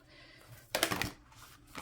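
Tarot cards being shuffled off camera, a brief papery riffle in one burst, then a softer rustle, quiet and close.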